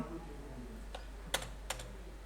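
A few sharp computer keyboard keystrokes as numbers are typed, three distinct clicks spaced apart over a faint steady hum, with no speech.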